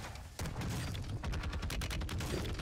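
Rapid semi-automatic sniper rifle fire in the Warzone video game rings out in quick succession, loud and dense with booming reports layered over a busy game mix.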